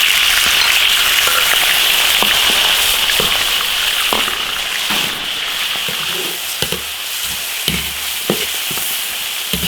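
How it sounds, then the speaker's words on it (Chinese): Loud, continuous sizzling of diced chicken frying in a hot iron wok for spicy Sichuan chicken, with scattered clanks and scrapes of stirring throughout. "鸡子直接下锅炒。"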